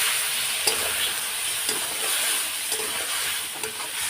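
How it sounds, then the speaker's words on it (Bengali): Spices with salt and cumin powder sizzle and fry in a pan while being stirred, a steady hiss broken by periodic scraping strokes of the spoon, close and fairly quiet. "এদিকে মশলাগুলো সব দিয়ে দিলাম কষিয়ে নিয়ে একটু ভালো করে কষিয়ে নিয়ে"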